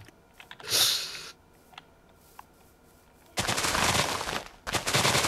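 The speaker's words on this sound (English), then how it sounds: "I have a feeling some explosions happened" Explosions from TNT in Minecraft sound as loud broadband bursts: one short burst early on, then a long sustained roaring blast followed by another, heard alone without speech.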